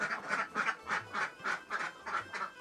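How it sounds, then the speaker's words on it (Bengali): Ducks quack in a backyard hatchery shed housing around 400 birds, a regular run of about nine nasal quacks, fairly close and moderately loud, with no talking. "এখানে কিছু হাঁস আছে"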